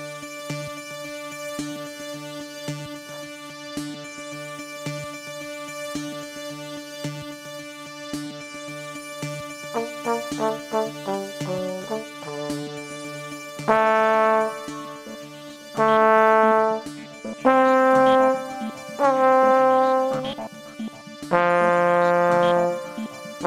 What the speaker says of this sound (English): I'm going to play it over a little bit of a groove.